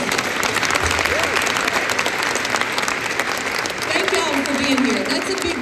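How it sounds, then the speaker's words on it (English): Sustained, dense applause from an audience at a women's basketball press conference honors the cheer squad and band, a steady wash of clapping with a voice briefly audible partway through. "Give them a round of applause."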